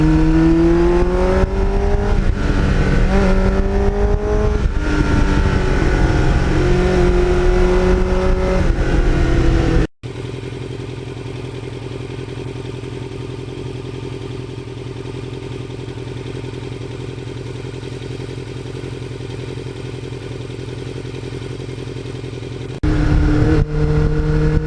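A Kawasaki Ninja fitted with a Muzzy exhaust revs hard, rising and falling in pitch like a race car, then cuts off sharply into a steady drone with more engine noise close by and no talk.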